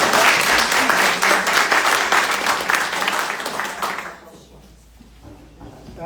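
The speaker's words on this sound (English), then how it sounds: "let's give her a round of applause for that." Loud applause from a book club audience, dense clapping for about four seconds, then fading quickly into quiet room noise.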